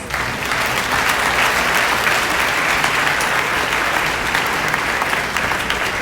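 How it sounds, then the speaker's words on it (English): Graduates at a 2019 high school graduation ceremony give their parents a sustained round of applause, a dense, steady clapping from a large crowd lasting throughout without pause. "Let us all face our parents and give them a round of applause."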